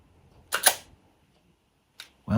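Zenit film camera shutter firing, with a single loud mechanical clack and brief rattle up close, then quiet, a smaller click and another sharp clunk at the end.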